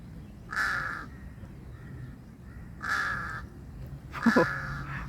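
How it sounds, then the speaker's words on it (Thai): Three loud crow caws spaced a couple of seconds apart, harsh and nasal, with a steady low background rumble between them. "โอ้ยเสียงกา ดัง"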